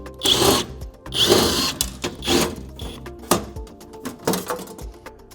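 A power drill backs out the screws of a plate on a Cooper&Hunter PEAQ heat pump, with four distinct whirring bursts in quick succession, each spinning up sharply and stopping, close and fairly loud.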